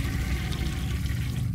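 Toilet flush in a haunted-hotel video game, a steady rushing, gurgling gush of water heard close and alone for a moment.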